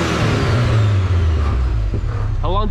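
A car engine idles with its IAC valve unplugged, a steady low mid-pitched rumble that holds without revving up, close and loud, with a brief chirp near the end.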